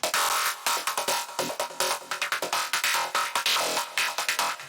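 A bright FM synth lead plays a fast, choppy sequence of short plucked notes, dense and loud, pulsing in quick rhythmic bursts.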